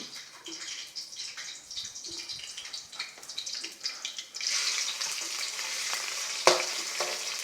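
Shrimp sizzle in a hot pan for home-made fried rice, a constant frying hiss with scraping stir strokes that grows louder and denser partway through, then one sharp metallic clang near the end.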